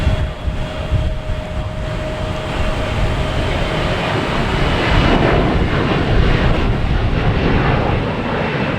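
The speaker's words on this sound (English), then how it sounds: "Coming in from Amsterdam, a 787." A KLM Boeing 787 arriving from Amsterdam lands at Boston Logan, a broad rumbling roar with a thin whine early on, swelling slightly in the second half amid some wind noise and no voices.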